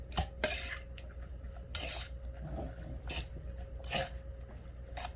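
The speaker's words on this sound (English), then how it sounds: "And then you want to put your asparagus right in the bowl with your beaten eggs. And give that a mix." A utensil clinks and scrapes in a bowl as asparagus is stirred into beaten eggs for an asparagus custard, giving several sharp, close taps at an uneven rhythm over quiet kitchen background.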